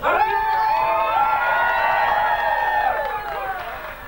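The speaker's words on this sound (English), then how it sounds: "Let me hear some reaction from the crowd." A crowd at a 1994 talent show in Derragarra cheers and whoops loudly, with overlapping shouts and high excited voices that swell and then fade slightly toward the end.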